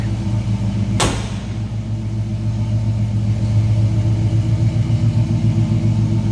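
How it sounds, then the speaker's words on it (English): A 1970 Chevrolet C10 pickup with a 350 small-block V8 idles with a steady, deep rumble close by, broken once early by a sharp click or bang before the engine settles into an even, continuous throb. "Nice little rumble out of that small block Chevy. 350 underneath the hood."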